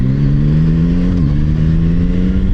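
Steady, loud engine drone from an automatic DCT Yamaha MT-09 motorcycle riding in Istanbul traffic, with a brief dip in pitch midway as it shifts gear early, otherwise a constant mid-range hum.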